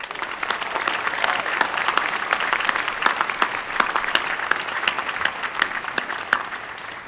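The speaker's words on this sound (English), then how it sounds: "I ask that you join me in offering them a round of applause." Audience applause for university leaders at a commencement ceremony, a dense, steady round of clapping filling the hall throughout, with a few sharper claps standing out near the front.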